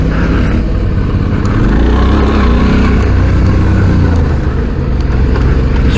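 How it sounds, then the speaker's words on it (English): Motorcycle with a standard exhaust being ridden on an adventure road ride, a steady low engine note with a mild rise in revs midway, loud and continuous with wind rush and no talking. "a really nice note to it for a standard exhaust"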